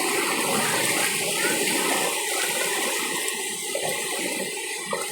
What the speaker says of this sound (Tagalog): Tignan nyo po kung paano kalakas yung agos nila. Na pumapasok doon sa bahay.